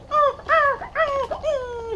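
A dog whimpers and whines in a run of four high, drawn-out cries, each rising then sliding down, close and fairly loud with no talk over them.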